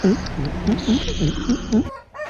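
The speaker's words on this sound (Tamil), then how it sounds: "இவர் தான் வந்து பார்த்தீங்கன்னா நம்ம ஃபார்மோட தற்போதைய ராஜா சேவல்" A fighting rooster on a small poultry farm clucks in a steady run of short, close calls, about three per second, over a busy background.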